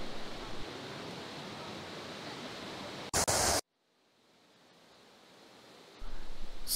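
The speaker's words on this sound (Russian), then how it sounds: "А это я нахожусь около первого водопада сверху." Water pours steadily at one of the Four Waterfalls in Wales, a constant hissing roar close by that briefly cuts out to near silence before resuming.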